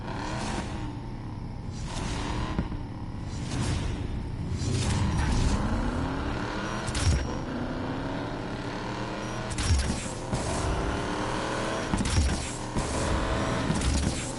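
A street car races in the Need for Speed: Payback game, engine revving and shifting with rising and falling pitch, whooshes as it passes scenery, and short mechanical clunks, loud and continuous throughout.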